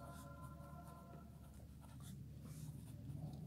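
Chalk or marker scratching steadily across a board during a Class 9 physics lesson on motion, faint and continuous for a few seconds with no voice over it.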